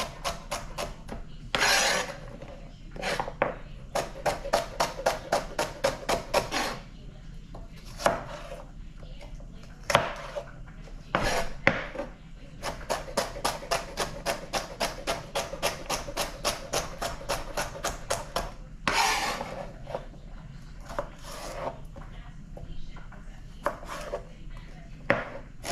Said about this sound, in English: So cut my celery down